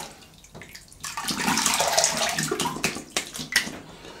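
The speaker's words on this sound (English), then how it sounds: "Let me have a quick rinse." Water runs steadily from a tap during a rinse after a wet shave, building to a broad splashing wash with a few louder gushes, close and without talk.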